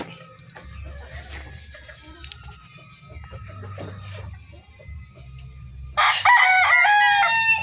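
Backyard chickens cluck and murmur softly, with a rooster crowing loudly and close near the end.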